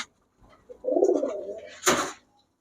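Kaldom pigeons, cream-eyed birds kept in a loft for sale, give a soft rolling coo lasting about a second, followed by a short, sharper burst of wing or body noise. Nothing else is heard.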